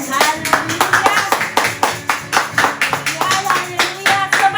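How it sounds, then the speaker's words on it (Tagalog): A worship congregation claps hands together in a fast, steady rhythm, loud and sustained, with music and voices mixed underneath. "sabay-sabay po tayong pumalakpak sa Panginoon"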